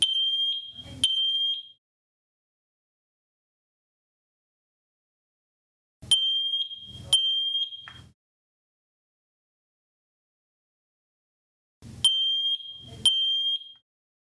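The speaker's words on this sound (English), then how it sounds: "press and hold the control button until each alarm chirps" MATelec FSA-30000 smoke alarms chirp during a control-button test: three groups of sharp, high electronic beeps spaced about six seconds apart, each group holding two or three tones, with silence between.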